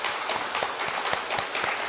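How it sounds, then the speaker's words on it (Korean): A church congregation at a Sunday worship service breaks into steady applause, a dense, even patter of many hands clapping close by, sustained throughout with no talk. "이제 박수로 환영하시겠습니다."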